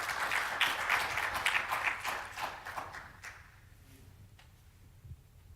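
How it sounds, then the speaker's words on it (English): Conference audience applause, a moderate burst of clapping that fades out after about three seconds, leaving a quiet room with a few faint stray sounds. "a round of applause for that."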